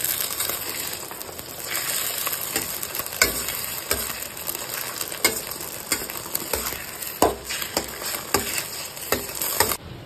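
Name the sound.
frying in a pan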